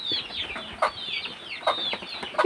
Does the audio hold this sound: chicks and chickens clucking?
yes